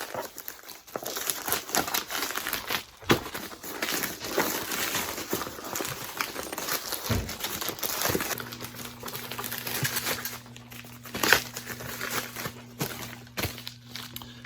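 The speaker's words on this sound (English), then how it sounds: "I'm going to take this guy here, the padded flat rate envelope." A box being pushed into a padded flat rate envelope, with repeated close crinkling and rustling of the plastic and a few sharper rustles and thumps, while a steady low hum runs through the second half.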